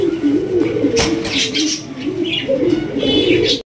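Large fancy pigeons coo in a big cage, a steady low throaty warble running throughout with a few brighter chirps layered above, close and fairly loud.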